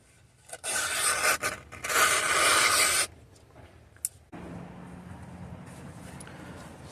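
Freshly whetstone-sharpened scissors snip through heavier paper in one close, raspy cutting burst lasting a few seconds, followed by quiet handling and a low steady background hum.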